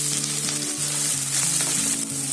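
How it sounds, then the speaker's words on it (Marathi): Onions sizzle and fry steadily in hot oil with whole spices in a kadhai, a continuous close crackle with faint stirring throughout. "कांदा चांगला फ्राय करून घ्यायचा आहे"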